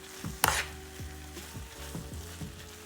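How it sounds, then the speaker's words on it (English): A spoon scrapes and stirs tomato paste into a fish pie mixture in a pan, with a steady soft sizzle under repeated rhythmic scraping strokes and one brighter clink near the start. "And then I'm going to add my tomato paste. Add just a little bit inside of it. And stir it really, really well."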